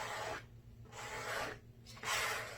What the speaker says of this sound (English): All I did was I just started scraping it across the canvas just like this.